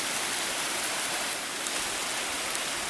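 Flowing water of a creek known locally as a run at Pine Creek, a steady broadband rushing that stays constant and fills the scene with no voices.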